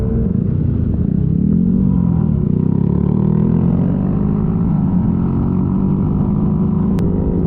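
A Yamaha TMAX maxi scooter racing around Cadwell Park circuit, its engine droning loudly up close with a rising and falling pitch as it accelerates and holds speed, steady and continuous, with wind rush under it.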